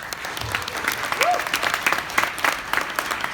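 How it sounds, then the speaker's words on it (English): A summit audience in Kyiv claps continuously, individual claps popping out of a steady round of applause at moderate volume. "Give a big round of applause for Igor"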